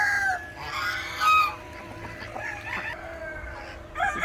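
Roosters at a farm animal sanctuary crow and cluck, with several overlapping crows and chatter from a flock at close to mid distance, continuous throughout and no talking.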